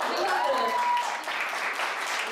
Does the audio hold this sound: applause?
yes